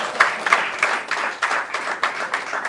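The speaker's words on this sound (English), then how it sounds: "give him another round of applause." Audience applause for an award recipient at an annual climate and business sustainability event, moderately loud and steady with a few sharper clap peaks across the burst.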